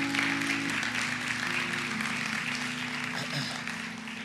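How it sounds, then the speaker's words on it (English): A church congregation clapping hands in praise during a worship service, a steady dense wash of applause throughout with a low musical drone underneath, moderately loud and slowly fading. "Come on, give the Lord a hand clap of praise."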